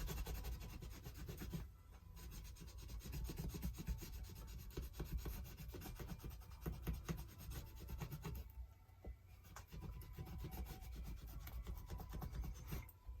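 A Neocolor II wax crayon rubbed hard across art journal paper gives a steady, close scratchy rasp that continues almost without pause, briefly easing twice, with no voices.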